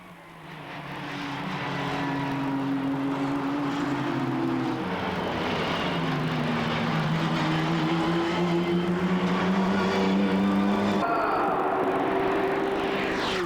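Renault Sport Clio V6 Trophy race cars battling through a downhill section in the 2000 season, their engines loud and close, shrieking at high revs with pitch sliding up and down through gear changes, overlapping as several cars pass.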